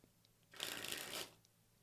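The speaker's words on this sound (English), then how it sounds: "Just like I'm sort of playing about with the cards just now" Playing cards shuffled and handled during card tricks, heard as a single close, papery riffling burst of about a second, crisp and fairly quiet, with no talking.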